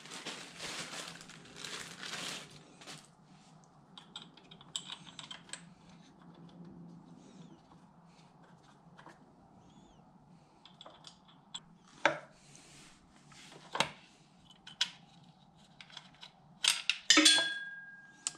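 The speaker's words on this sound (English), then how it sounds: "Now we'll put the bolts back in." Bolts go back into a BMW N52 engine on an E90 325i: sparse metallic clinks, taps and rustles at close range, with quiet gaps between and a cluster of sharper knocks near the end.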